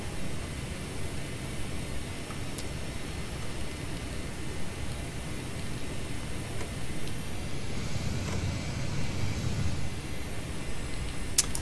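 A Saab AJS37 Viggen jet landing in a flight simulator, a steady broadband engine roar with low rumble that swells slightly toward the end, continuous and without talk.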